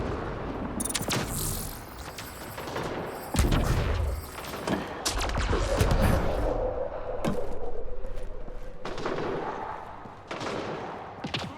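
Rapid bursts of gunfire in a Mass Effect Andromeda battle, volleys and single shots crackling near and loud over a steady background rumble, with heavier thuds mixed in and no talking.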